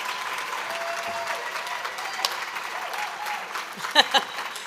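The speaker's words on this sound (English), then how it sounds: "Please give a round of applause for each student" An audience applauds at an awards ceremony honoring students, steady clapping from a crowd with a few louder individual claps near the end.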